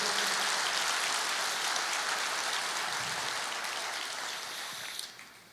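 A church congregation gives sustained applause, a dense, rain-like wash of many hands clapping together that holds steady, then gradually tapers and thins toward the end.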